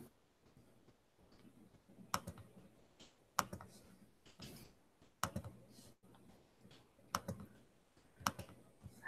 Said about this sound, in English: Can you hear all my clicking?